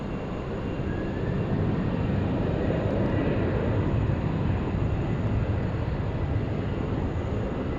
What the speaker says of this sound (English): 16 right, clear takeoff, Qantas 653.